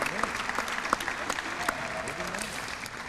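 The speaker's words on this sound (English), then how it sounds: "Let's give a big round of applause to Ethan Ballou from Mrs. Thompson's class" Audience applause at a school district entrepreneurship day awards ceremony, a steady wash of many hands clapping with a few sharper claps standing out, moderately loud and continuous throughout.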